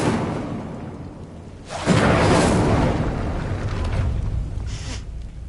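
Incendio fire spell cast in Hogwarts Legacy: a sudden whooshing fiery burst about midway that roars and slowly fades, with a smaller flare shortly after.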